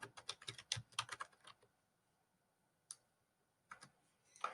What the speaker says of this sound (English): type participation as the heading